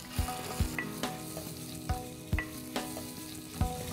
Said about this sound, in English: to this now I'm going to add my onions